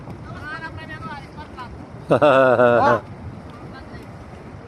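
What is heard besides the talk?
boat motor running on water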